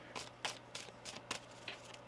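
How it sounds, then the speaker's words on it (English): Tarot cards being shuffled by hand, a run of crisp riffling bursts coming about every quarter to half second, close and fairly soft, with no talk. "One more shuffle here."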